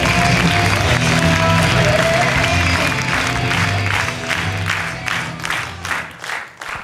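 A studio audience applauds Nana with loud, dense clapping and some cheering from a crowd, the sound thinning into scattered, uneven claps as it fades toward the end.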